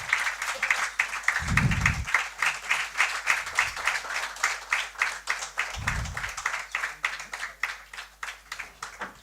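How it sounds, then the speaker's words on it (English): An audience claps steadily at a panel discussion ceremony marking a Nobel Peace Prize anniversary, moderately close, with a rhythmic, fairly even applause and a couple of low thumps mixed in. "Ladies and gentlemen, a big round of applause."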